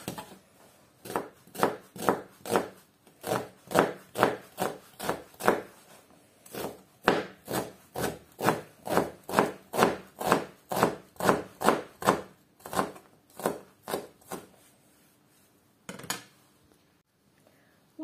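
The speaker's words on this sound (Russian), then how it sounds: "Сейчас лук будем нарезать." A kitchen knife finely chopping onions on a cutting board for a beef mince filling, steady rhythmic knocks in quick runs with short pauses, close and fairly quiet, with no talking.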